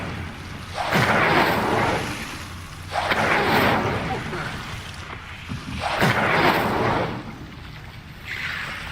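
Incendio fire spell cast repeatedly in Hogwarts Legacy, heard as three or four loud whooshing, roaring bursts of flame, each swelling for about a second or two and then fading, with brief quieter gaps between them.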